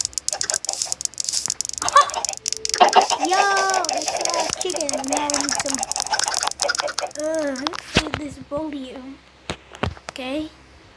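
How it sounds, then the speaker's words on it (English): Chickens in the Minecraft video game, repeated short clucks and squawks spread across the scene at moderate level, with someone talking over and between them. "all the chickens in here"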